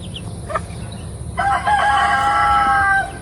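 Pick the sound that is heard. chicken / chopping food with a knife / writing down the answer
chicken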